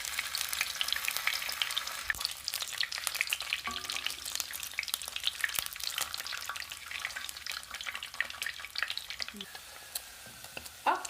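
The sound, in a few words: sausage frying in a pan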